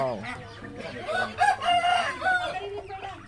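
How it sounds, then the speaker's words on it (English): A rooster crows on a Muscovy duck farm, a loud drawn-out cock-a-doodle-doo close by with some clucking and farm bird noise around it. "This is a rooster."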